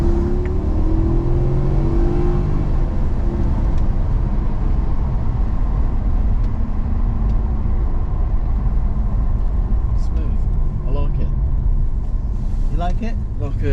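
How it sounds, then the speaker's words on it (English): Supercar braking and then accelerating away on a track, heard from inside as a loud steady engine drone and road rumble, with voices talking over it throughout. "I'm going to brake and then just take off, and the car will run"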